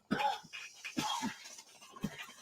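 Several sharp coughs in a row, close and fairly loud, with short gaps and a final cough after a pause.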